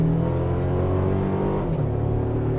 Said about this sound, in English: And taking a step out here on the gas.